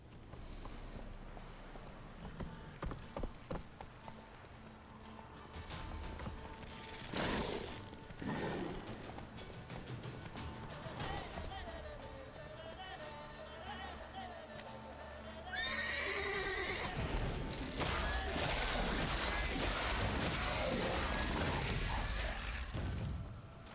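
A horse in a video game gallops with rhythmic hoofbeats and neighs several times, set against game music and ambience, with the sound swelling louder in the second half.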